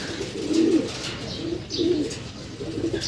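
Racing pigeons in a loft give soft, low repeated cooing calls, about four rolling coos spaced evenly, close by and fairly quiet.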